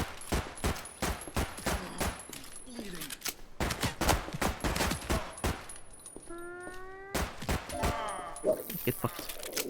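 Rapid, repeated gunfire in the video game Project Silverfish, many close sharp shots in bursts through the clip with a short pause near three seconds, while a voice talks over the shooting.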